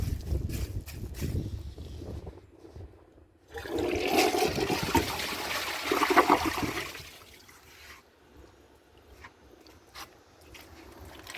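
A skirted American Standard Cadet 3 toilet flushes a grocery bag, a loud rushing swirl of water lasting several seconds, then draining down to a quiet trickle, with no talking.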